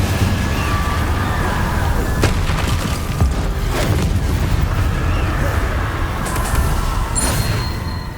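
Fire spell Incendio cast amid a magic duel in Hogwarts Legacy: a steady dense roar of flame and bursting impacts, loud and continuous, with scattered sharp cracks and a brief bright whoosh near the end.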